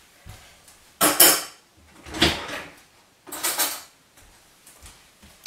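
Dishes and cutlery clank and rattle as they are put in to wash in a home kitchen during mug-cake baking, coming in three loud close bursts with quieter knocks between.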